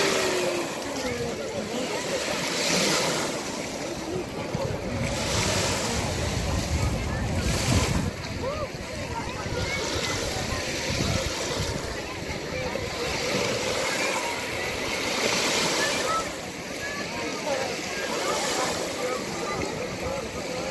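Sea waves washing onto a beach, a continuous roar of surf with gusty wind buffeting the microphone and swells rising and falling every few seconds, voices faintly mixed in.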